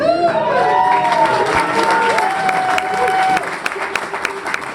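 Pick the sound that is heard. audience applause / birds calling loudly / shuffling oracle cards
audience applause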